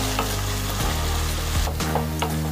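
Chopped onion and slit green chillies frying in a pan, a loud, dense sizzle throughout with a low hum underneath and a couple of spatula scrapes near the end, no speech.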